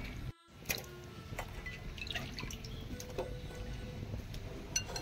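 Water poured into a cooking pot before broccoli goes in, in a village kitchen, gives a steady close liquid splash and trickle with a few drips and small knocks throughout.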